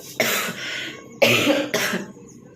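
Three harsh coughs from a chest-burning cough, a long one then two shorter bursts close together, loud and close with brief quiet gaps between.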